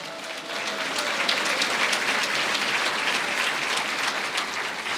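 A church congregation claps loudly in a continuous, dense burst of applause that swells quickly and holds steady for several seconds with no voices over it.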